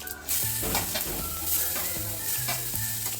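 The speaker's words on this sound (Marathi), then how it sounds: "सर्वात आधी आपण तेल टाकून घेणार आहोत. त्यानंतर थोडीशी मोहरी टाकून घेऊ, जिरे आणि आपण केलेलं वाटण टाकून घेऊया." Mustard seeds, cumin and a ground spice paste frying in hot oil for a potato samosa filling, giving a steady loud sizzle with crackling seed pops and scraping stirring strokes, no voices.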